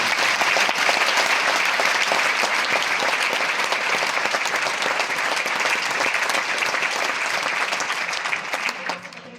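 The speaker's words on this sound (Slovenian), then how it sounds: "dajmo še en aplavz" An audience at a sports-awards gala for athlete of the year breaks into loud, sustained applause. The clapping stays dense and even throughout before it begins to taper off at the very end.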